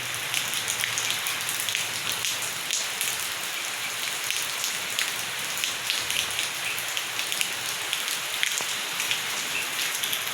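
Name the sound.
heavy rain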